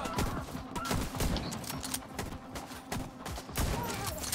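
Video game gunfire at low volume: repeated shots in irregular clusters, popping over a busy, muffled background.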